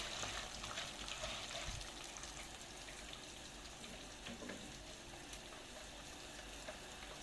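Pasta for koshari fries in a pot, turning golden, giving a faint steady sizzle and crackle throughout, soft and even with no talking.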